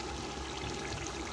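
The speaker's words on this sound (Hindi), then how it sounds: "फिर इसमें डालेंगे पानी" Water poured into a pot of chicken and potato pulao, a continuous gushing, splashing flow at close range, steady and unbroken for over a second with no talking.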